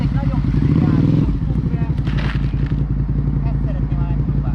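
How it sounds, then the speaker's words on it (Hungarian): A motorcycle engine idles with a steady low throb, then moves off slowly at light throttle during a first riding lesson, its pulsing note continuing as someone talks over it. "Elindul a motor, adsz egy nagyon kicsi gázt,"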